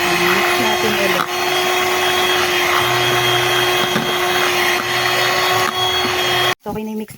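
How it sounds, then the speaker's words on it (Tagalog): A cheap electric hand mixer whirs steadily through a graham bar mixture with a constant motor drone and a steady whine, running near and loud for about six seconds before cutting off abruptly. "Mix lang natin ulit. Kasi mumurahin lang tong mixer ko eh."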